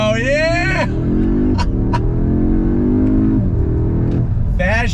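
A 2022 Audi S3 sedan accelerates hard on throttle, its engine note rising loud and close, with quick gear changes from the 7-speed dual-clutch gearbox breaking the climb and a voice briefly heard.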